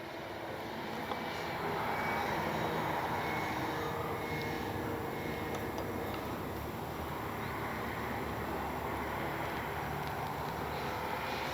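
A CNHL Super Tucano RC airplane flies in the evening, its steady electric motor drone carrying continuously with some wind noise and no talking.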